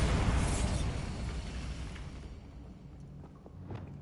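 A Bombarda spell explosion from the video game Hogwarts Legacy, with a heavy booming blast at the start whose rumble fades slowly over several seconds, leaving a quieter tail with faint small crackles.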